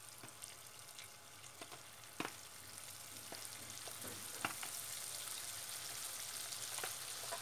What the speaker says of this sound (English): And we just fry our flour in with the butter.